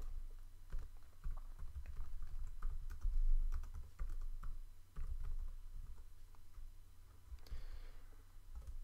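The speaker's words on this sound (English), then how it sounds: "I'll just type in something." Fingers tap out text on a computer keyboard in quick, irregular bursts of soft clicking keystrokes, fairly faint and close, with short pauses between runs of keys.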